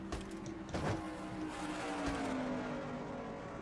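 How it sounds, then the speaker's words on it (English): A race car in a stock car racing video game sweeps past on the track, its engine tone rising and falling as it passes, fairly faint with no talk. "the 68 car just flies by and come off turn number 4 on the outside"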